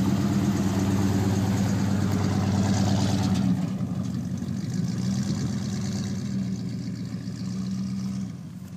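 Car engine running steadily as the driver eases off the brake onto the gas, a close, loud mid-pitched hum that shifts slightly partway through and then holds.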